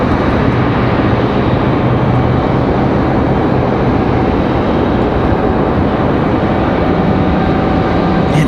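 An Endeavor Air jet airliner in from Indianapolis roars steadily and loudly at Raleigh-Durham airport, a dense unbroken engine rumble with no voices.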